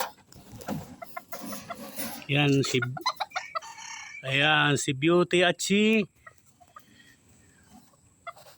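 Bantam chickens cluck and a bantam rooster crows loudly in several bursts nearby, with someone talking over and between the calls.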